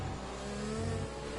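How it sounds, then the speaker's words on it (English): An F1 car from a racing video game revs hard under heavy throttle, a steady close engine drone with no pauses or talk. "And then he gets too heavy on the throttle."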